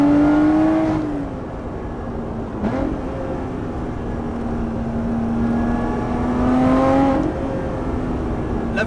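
A Lotus Exige 430 Cup V6 accelerates hard at full throttle, its engine note climbing steadily in pitch, dropping briefly at gear changes and rising again, loud and close throughout.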